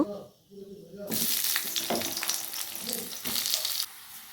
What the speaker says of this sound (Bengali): দেখো পেঁয়াজগুলো একটু ভেজে নিয়েছি